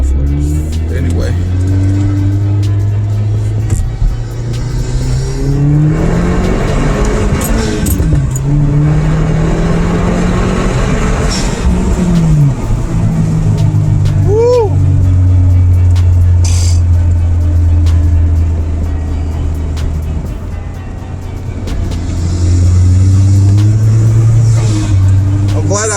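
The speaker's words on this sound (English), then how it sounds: "Like this secondary cat delete, man, the car sounds nice. It sounds amazing." A 2009 Acura RDX with a turbocharged engine and a secondary cat delete drones loudly from inside the cabin, rising and falling as it accelerates through pulls, with a few brief higher whines over the steady engine note.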